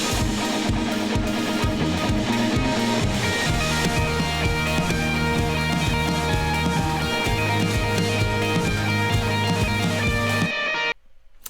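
A full band mix plays the intro of a worship song, with drums, bass and guitars panned hard left and right. The music is dense and steady and ends abruptly near the end, with no talking.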